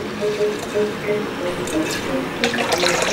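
Soaked rice for sweet potato rice gives off soft wet squishing and trickling as water is wrung out through a cloth, fairly faint and close.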